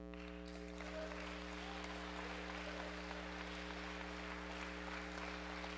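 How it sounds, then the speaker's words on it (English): A congregation at Union Temple Baptist Church in DC, gathered for Men's Day, applauds Reverend Wilson: faint, distant, steady clapping under a strong electrical hum throughout. "I think we need to applaud him for that"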